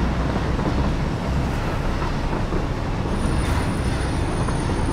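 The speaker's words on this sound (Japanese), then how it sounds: "そして今みたいに列車同士はぶつかりません" Train from the Satisfactory video game running along a track, a continuous loud rumbling roll with steady mechanical noise and no clear pauses.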